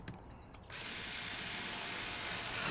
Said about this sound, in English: All I'm doing is allowing the screwdriver to do the work.